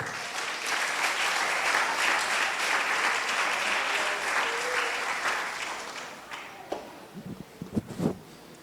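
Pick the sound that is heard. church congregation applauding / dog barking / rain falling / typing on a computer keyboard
church congregation applauding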